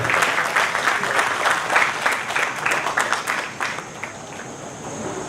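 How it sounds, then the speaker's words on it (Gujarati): An audience at a Jain school event claps steadily for several seconds, the applause fading out toward the end as the room settles. "આવો પારસભાઈને આપણે પહેલાં તાળીથી વધાવીએ"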